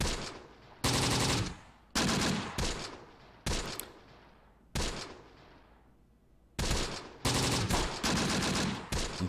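Soldiers in Close Combat: The Bloody First trade bursts of rifle and machine-gun fire in a Tunisia campaign battle, loud sharp volleys and rapid rattles separated by brief decaying gaps, with no voices.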